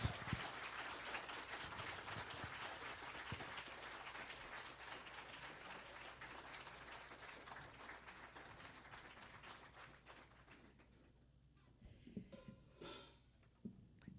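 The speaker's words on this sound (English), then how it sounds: "Please give her another round of applause, everyone" An audience at a Black history storytelling event breaks into sustained, fairly distant applause that carries on for about ten seconds before thinning out into a few scattered claps.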